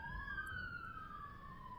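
An ambulance siren wails outside, a faint, steady two-tone wail sliding slowly downward in pitch as the vehicle moves past, alone with no talk.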